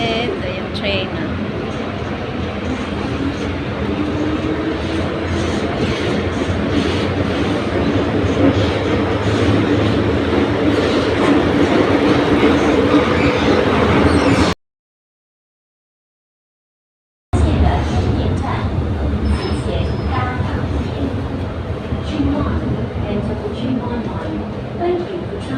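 Hong Kong MTR train carriage rumbles steadily with a loud, close, continuous roar and voices talking over it, cut by a brief silent gap.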